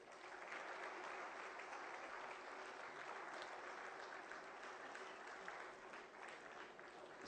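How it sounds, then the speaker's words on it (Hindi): An audience at a Haryana government event gives steady applause. The clapping is continuous and evenly dense, heard at a distance and fairly faint throughout. "तालियां आप सबकी तरफ से।"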